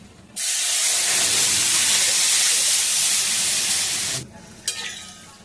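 Boiled lentils tip into a pan with hot oil, curry leaves and turmeric for sambar, setting off a sudden loud sizzling burst that holds for about four seconds, then cuts off and leaves a short scrape.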